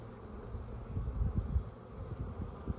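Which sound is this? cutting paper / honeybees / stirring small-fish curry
honeybees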